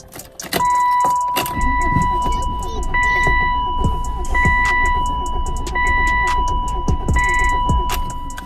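Car engine being given gas while it struggles to run, a rough uneven running sound with sharp clicks and clanks and a steady tone beneath, as a person talks over it.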